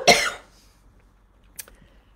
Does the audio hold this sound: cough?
yes